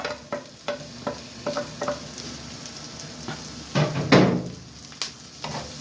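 Onions stir-fried in a pan for chicken curry: repeated spatula strokes sound over a steady sizzle, a louder burst of frying swells midway, and then the brisk stirring picks up again.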